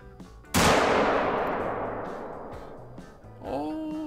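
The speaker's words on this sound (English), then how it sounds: "All right, we'll go for the shot." A single loud rifle shot in the hunting video game theHunter: Call of the Wild, a sharp close crack that rolls into a long fading echo across open terrain.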